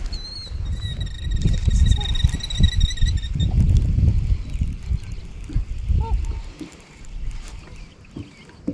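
A flock of geese honking over a canal, with high nasal calls repeating through the first half over heavy low rumbling and water or boat noise, a few scattered honks later.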